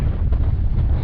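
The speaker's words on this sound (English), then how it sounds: "Oh, it's windy." Strong wind buffets the microphone continuously in an open canyon landscape, a loud low rumbling gusting roar that never lets up, with no voices.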